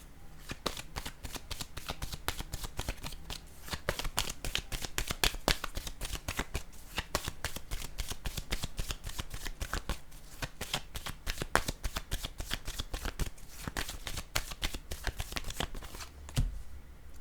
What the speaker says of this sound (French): Je vais piger une autre carte, je pense.